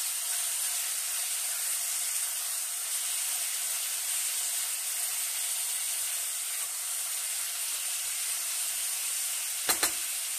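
Chopped meat fries with onions in a pot, giving a constant, even hiss of sizzling fat and steam at moderate level. A brief metallic click sounds near the end, and no one speaks.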